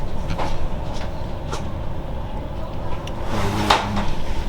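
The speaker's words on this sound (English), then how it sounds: "We're in the train on the way to Copenhagen Airport" Rolling rumble from inside a train heading to Copenhagen Airport, a steady low drone with faint rattles and a brief clunk near the end, continuous throughout.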